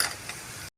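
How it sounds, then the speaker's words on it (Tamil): Onions sauté in hot oil for a drumstick chicken gravy, giving a soft, even sizzle with faint ticking crackles before the sound cuts off abruptly. "வெங்காயத்தை எண்ணெயில் நல்லா வதக்கணும்."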